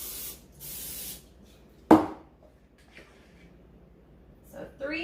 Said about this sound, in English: Let's spray a couple more.